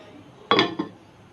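A mutton handi is stirred and covered: two quick metallic clinks of a lid or spoon against the pot, close and sharp, the first louder, then quiet.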